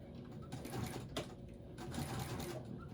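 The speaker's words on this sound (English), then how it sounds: "Let me put it down and backstitch. Okay, let me backstitch here." A sewing machine backstitches on a baby quilt in short, quick bursts of rattling stitching, close and fairly quiet, with brief pauses between runs.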